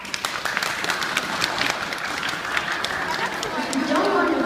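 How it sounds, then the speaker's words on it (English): Students at a school assembly clap together to vote on a proposal, a steady crowded patter of hands filling the room with voices murmuring underneath and the clapping swelling louder toward the end. "If you agree with bringing pets to school,"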